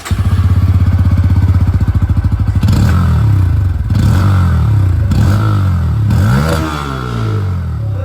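A 160cc motorcycle with an under-wheel exhaust idles with a fast, even thumping pulse close by, then revs up several times in rising bursts that fall back between blips.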